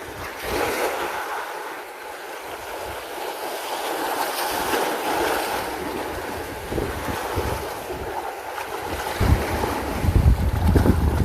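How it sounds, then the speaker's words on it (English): Strong wind roars and buffets the microphone in a constant low rumble while fishing, gusting harder near the end, with no voices. "it's windy out there"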